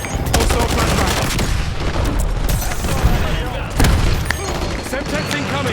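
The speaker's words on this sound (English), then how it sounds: "Hostile flashbang." Flashbang grenade bursts and rapid gunfire in the video game Black Ops 6, with dense, loud overlapping shots and booms throughout and game voice callouts over the top.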